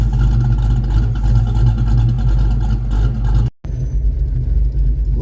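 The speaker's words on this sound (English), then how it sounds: "Gratuitous camshaft chop clip, just to listen to old gal make some noise." Foxbody Ford Mustang engine with a camshaft chop idling, a loud, close, lumpy rumble with uneven loping pulses, briefly cut off near the end before resuming.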